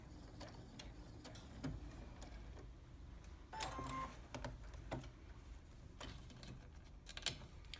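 A sewing machine runs a few short back stitches on a tailored sleeve placket, producing quiet rapid ticking and clicking bursts with small pauses at close range, no voices.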